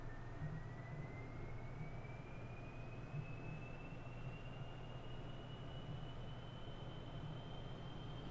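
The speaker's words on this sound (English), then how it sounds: "Turn the engines back on, full throttle." Aircraft jet engines at full throttle in Kerbal Space Program, a steady roaring drone with a rising whine that climbs slowly in pitch, continuous and fairly faint with no voices.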